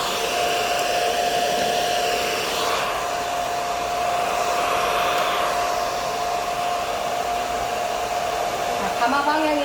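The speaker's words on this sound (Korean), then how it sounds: "드라이기를 틀어서 머리를 말려주겠죠?" A hair dryer blows continuously and loudly up close with a steady whining hum throughout, no voices, drying a man's hair after a haircut.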